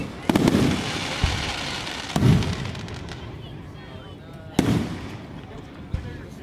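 Fireworks at a Delaware City show explode in heavy booms spaced a couple of seconds apart, each with crackling tails, heard from a distance while people chat nearby.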